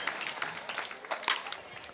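A full grandstand crowd at a pickleball match claps in short scattered bursts, faint and somewhat distant.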